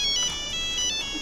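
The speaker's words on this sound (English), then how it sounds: "Let me get my phone. I got a phone call." A phone's ringtone plays for an incoming call, a bright, repeating electronic melody with a steady pulse, moderately loud and heard on its own.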